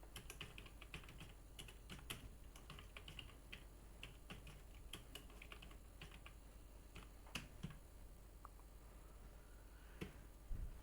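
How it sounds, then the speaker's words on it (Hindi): Quiet keystrokes on a computer keyboard while a math question paper is typed, irregular light clicks spread steadily over a low electrical hum. "तो मैं यहाँ पे क्वेश्चन टाइप कर लेते हैं यहाँ पे।"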